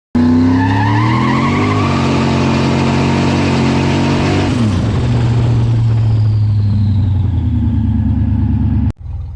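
A Chevy Blazer's 2.8L engine runs loud and close, revving up with rising and falling pitch before settling into a steady rough idle, then abruptly cutting off near the end.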